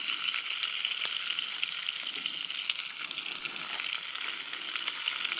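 A trout fries in a pan with a dense, continuous close sizzle and crackle that holds steady and loud throughout, with no voices.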